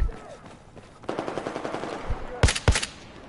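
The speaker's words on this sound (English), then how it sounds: "No one was shooting except me." Automatic gunfire in a video game rattles in a fast, steady burst, followed by a couple of louder, sharper shots near the end, all over quiet background game noise.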